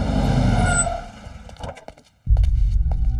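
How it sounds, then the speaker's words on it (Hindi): A vehicle slowing and braking to a stop, engine rumble fading into a brief silence before a low idle resumes, with light clatter. "अबे गाड़ी क्यों रोकी बे?"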